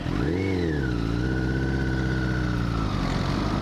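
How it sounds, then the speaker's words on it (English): A motorcycle engine pulls hard in third gear, loud and close, its pitch rising steeply and then holding a strained steady drone before easing off at the end. "Go up to 3rd. Give 3rd gear a go."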